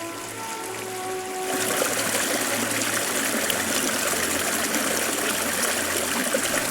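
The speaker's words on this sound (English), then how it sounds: "Beautiful woods, babbling creek, and my own private mini waterfall." Babbling creek spilling over a small waterfall in woodland, a steady close rushing and trickling wash that swells slightly after the first second and continues unbroken.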